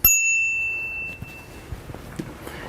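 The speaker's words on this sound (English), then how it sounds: "Had the bell down here by my thumb." A thumb-mounted handlebar bell on a Veego 750 electric bicycle gives one bright, loud ding that rings and decays over about a second, followed by faint clicks and handling noises.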